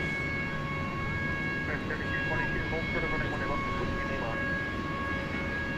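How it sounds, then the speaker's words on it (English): An air start cart drones steadily at DFW Airport at night, a constant mechanical hum with steady high whine tones throughout, with faint intermittent voices in the background. "that's an air start cart, which I think they forgot where the off switch is because we've been listening to it for about an hour now"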